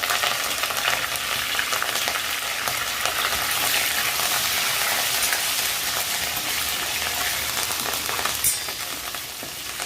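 A loud, continuous sizzle of garlic and curry leaves frying in hot oil, crackling steadily throughout with occasional small pops.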